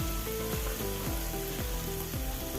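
Chopped green chillies fry in hot oil in a pan for pulao, a loud continuous sizzle broken by regular scraping strokes of a spoon stirring, close and with no talk.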